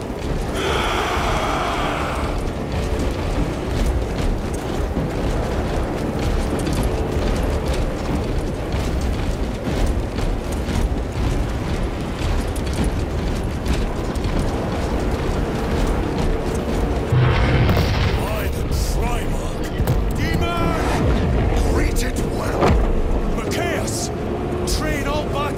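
Artillery fire and explosions in the Warhammer 40000: Space Marine 2 video game, a dense continuous roar of blasts and rumbling booms under voices talking throughout.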